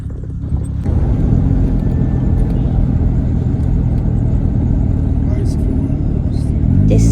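Car rolling along a rough road in Jamaica on the way toward a riverbed crossing: a steady, loud low rumble and road roar throughout, with faint knocks and rattles over it.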